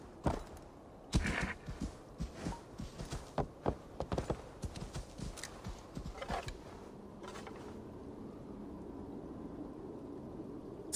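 Horse hooves clip-clop in the video game Assassin's Creed Valhalla, a rhythmic run of close, crisp hoofbeats that slows and stops, leaving a quiet ambient hiss.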